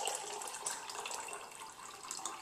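A mint rum drink is poured and strained without ice, a steady, moderately faint liquid trickle and splash running evenly throughout.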